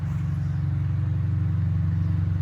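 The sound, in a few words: Lexus RC car driving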